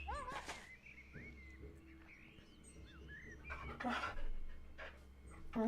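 A dog pants steadily and close while being petted in the video game Pentiment, with faint birdsong chirping in the background.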